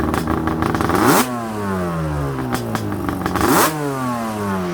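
Yamaha Banshee resto-mod two-stroke twin engine revving hard twice, pitch sweeping up to a sharp peak then falling back to a burbling idle, loud and close with no talk.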